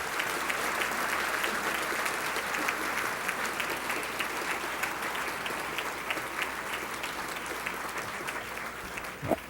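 A luncheon audience applauding Marion Wright Edelman and Peter B. Edelman: dense, sustained clapping from a large crowd, steady throughout and ending with a brief louder clatter.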